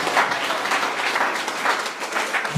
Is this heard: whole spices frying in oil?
no